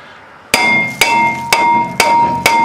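A hammer taps a brake rotor five times at an even pace, each strike a sharp, loud metallic clang with a bright ringing tail while removing it during a bearing job; no talking.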